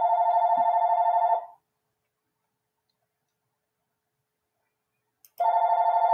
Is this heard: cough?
no